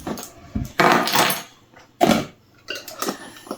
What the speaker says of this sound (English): So we're just gonna measure out 1 tablespoon